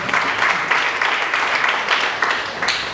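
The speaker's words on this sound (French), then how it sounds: "Applaudissez pour elle, s'il vous plaît." An audience applauds at a francophone panel event on women, peace and security, with steady dense clapping that rises and falls in bursts over a few seconds, filling the room without any talk.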